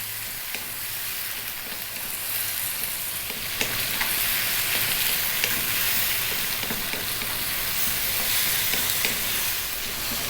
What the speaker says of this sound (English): we're going to go just for 4 minutes stir frying around